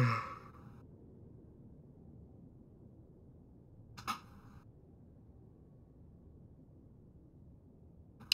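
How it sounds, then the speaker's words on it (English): A long, breathy yawn from a man with a slight cold opens the clip. It is close and fairly soft, then gives way to quiet room hiss with a couple of brief clicks. "Sorry I'm yawning"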